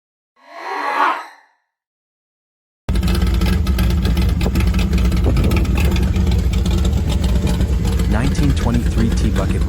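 After a short burst of sound and a pause, the big block engine of a 1932 Ford 3-Window Coupe hot rod starts running loud and steady at close range, a rough, continuous rumble that holds to the end.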